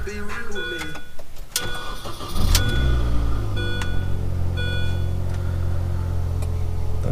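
A key-start R50 Mini Cooper engine cranks briefly and catches, then settles into a steady, close idle with a faint ticking of dashboard chimes over the low hum.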